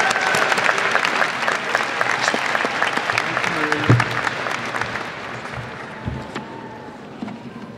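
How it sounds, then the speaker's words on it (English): Audience applause fills a graduation hooding and diploma ceremony, a dense steady wash of many hands that slowly thins toward the end with a few scattered claps. "So let's give all the graduates another great round of applause."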